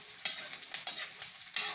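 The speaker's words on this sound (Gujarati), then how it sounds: "તો ગુંદને આપણે આ રીતે તળી લેવું બધો।" Edible gum (gund) fries in ghee with a steady soft sizzle, broken by a few louder scraping stirs of a spoon in the pan, close and without talk.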